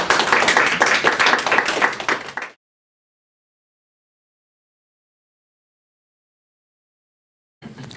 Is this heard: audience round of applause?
yes